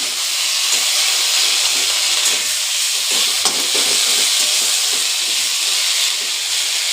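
Red amaranth greens with green chillies stirred in a hot frying pan: a loud, steady hiss of sizzling with repeated scraping strokes close by, and no talking.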